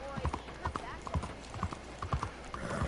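Horse hooves clip-clop in Red Dead Redemption 2 gameplay, a quick run of hoofbeats that repeats steadily across the moment, with a voice talking over the top.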